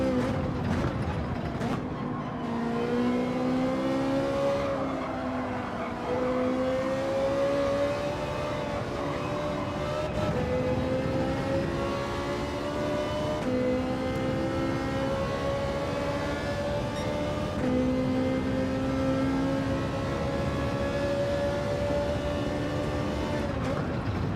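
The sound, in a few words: Ferrari race car engine revving in Gran Turismo 7 video game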